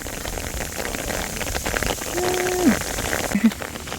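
Steady hiss of rain falling on rice paddies during planting across the whole clip, with a few faint pattering drops and a brief tonal chirp near the end.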